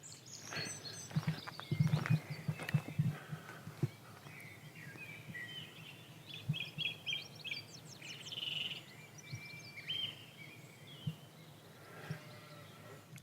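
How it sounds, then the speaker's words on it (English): Birds chirp and sing faintly outdoors in a quiet rural setting, scattered calls coming and going at a distance with a few soft thuds and shuffles nearby. "Now, can you hear that? Birds."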